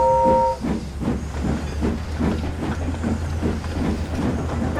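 An animated steam locomotive chuffs along steadily, rhythmic puffs of exhaust over a low rumbling drone, close and loud, with a brief whistle tone at the start.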